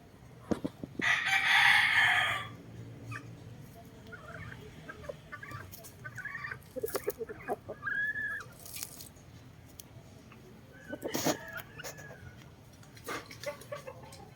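A Boston Roundhead gamefowl rooster at a backyard breeder lets out a loud, close crow, followed by scattered softer clucks and calls over a quiet yard background.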